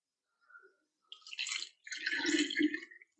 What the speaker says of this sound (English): So I'm going to use my funnel and to pour that in.